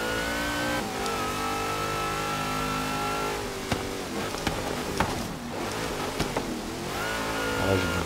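Supercharged car engine in Forza Horizon 3 (Hot Wheels) roaring loud and steady, pitch holding high, then dipping briefly mid-clip with sharp clicks before rising again into another strong rev; no talk.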